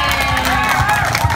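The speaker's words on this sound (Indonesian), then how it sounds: "saya mau kita semua tepuk tangan buat yang buka stand" Crowd clapping and cheering for the stand owners at an Indonesian talk event, a dense, steady burst of applause filling the short moment.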